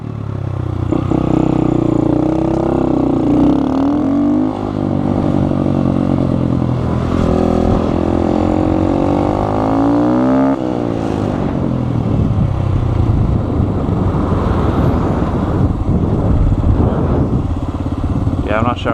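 Honda Grom motorcycle engine revving up and down for a wheelie, loud and close, with rising and falling pitch sweeps and some clatter, while someone talks over it.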